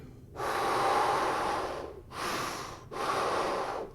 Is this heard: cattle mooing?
no